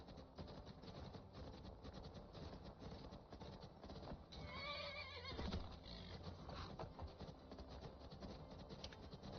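A horse in the video game Wabbajack whinnies in a short, whinnying call, set against continuous in-game ambience and faint hoof clopping, all fairly quiet.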